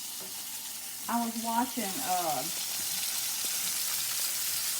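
Sausage frying in a pan gives a steady, bright sizzle that runs throughout, while a person briefly speaks over it near the start.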